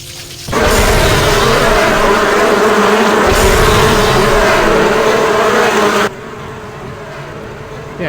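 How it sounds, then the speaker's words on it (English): A swarm of bees summoned by a spell in a video game, a dense, loud buzzing drone that starts abruptly, holds steady for several seconds, then drops to a quieter hum, with no one talking. "Cast bees. It's the most powerful spell."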